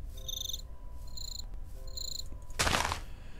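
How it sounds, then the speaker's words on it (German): Crickets chirp in short repeated trills in a forest in the game Minecraft, pulsing steadily under a low ambient hum, followed by a brief loud rushing burst near the end. "Aber hier haben wir natürlich auch Grillen."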